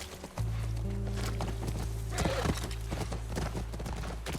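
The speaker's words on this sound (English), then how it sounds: "That's our horse." Horse hooves clip-clop steadily on the ground in The Last of Us, a continuous rhythmic trot heard fairly close over a low ambient hum, with no talking.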